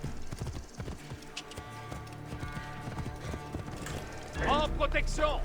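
Hooves clip-clop in a quick rhythm in a video game, with a horse whinnying near the end, close, over game sounds and ambience.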